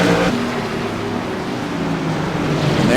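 Tour Modified race cars with Chevrolet engines roar around Martinsville Speedway in a loud, steady wall of engine noise that holds throughout with no pauses.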